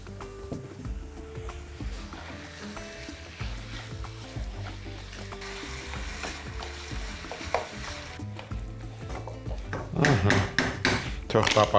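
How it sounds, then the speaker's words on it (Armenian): Beef pieces for a beef and potato pie fry on top of onions in a pan, with a steady sizzle, stirring scrapes and pan clatter, growing louder and more spattering toward the end while a voice talks. "Թող տապակվի միսը"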